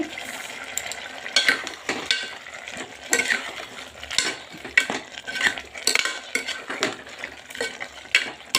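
A spoon scrapes and clinks repeatedly against a pot while a thick mixture of masoor lentils and mixed vegetables is stirred, with steady rhythmic strokes up close and no talking.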